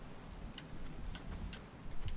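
Rain in the video game Rain World Downpour, a faint, even hiss of falling water with scattered soft droplet ticks and low rumble beneath, no voices.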